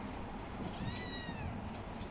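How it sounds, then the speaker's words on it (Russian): A domestic cat gives a single drawn-out meow at moderate distance, rising then falling, over low background hum with no speech. "Кто мяукает?"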